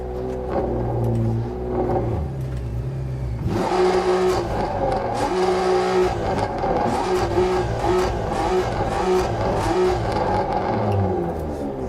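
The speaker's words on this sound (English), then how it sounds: "We are going to go for a little drive in my BMW 1000 plus horsepower M4" A 1000-plus-horsepower BMW M4 race car in the Assetto Corsa Competizione game, its engine revving loud and close while driving, climbing and dropping through gear changes with no talk.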